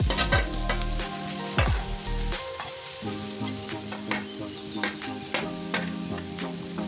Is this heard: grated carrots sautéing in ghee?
yes